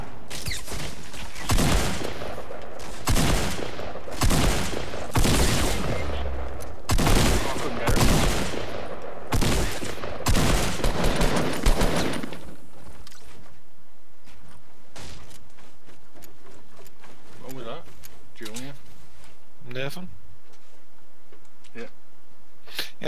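Shotgun fire in the video game Fortnite: loud, evenly spaced blasts repeat for about twelve seconds, then give way to quieter clicks and scattered game noises.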